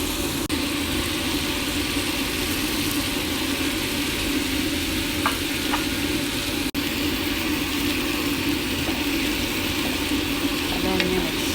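Meat sizzles steadily in a pan as it is mixed and fried with spices, a continuous crackling fry with a few faint clinks of stirring.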